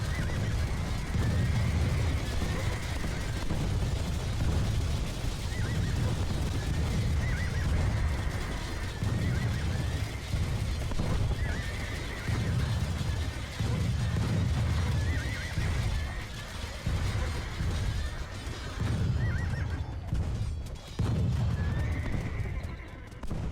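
Horses neigh and gallop in an Age of Empires 2 cavalry charge, with steady pounding hoofbeats and repeated whinnies over a rumbling battle din that runs throughout.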